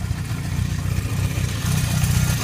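A Honda CB750 cafe racer motorcycle with a busted choke runs nearby with a steady, low, throbbing engine beat that holds an even rhythm and grows slightly louder toward the end.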